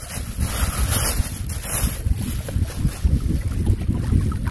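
Steady wind gusts blow across a microphone outdoors beside clean freshwater while fishing, a dense broadband roar with rumbling low buffets throughout and no voices.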